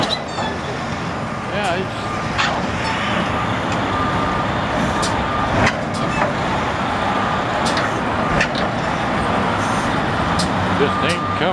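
A stuck 18-wheeler tractor trailer spins its wheels under steady, loud traffic-like engine roar, with someone talking briefly over it.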